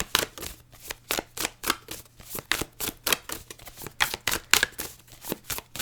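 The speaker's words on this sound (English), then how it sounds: "This deck is kind of hard to shuffle." A large, thick tarot deck being shuffled by hand, a close rhythmic series of sharp riffling bursts repeating roughly every half second, loud and with no talking.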